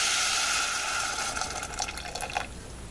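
Cooked dal water poured into a pot of spinach sambar, a continuous splashing, gurgling stream that tapers into softer trickles near the end, with no voices.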